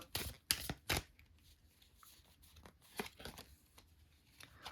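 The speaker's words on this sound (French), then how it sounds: "je vais tirer une autre carte" Crisp shuffling and flicking of a horoscope card deck as a card is drawn: a quick flurry of card snaps at the start, then softer scattered rustles, close and fairly quiet with no talking.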